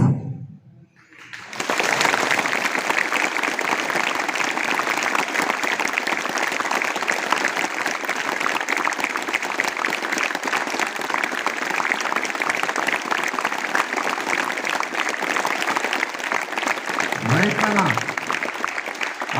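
A classroom or hall audience bursts into sustained, dense applause lasting many seconds at an even level, many hands clapping together, then easing off near the end.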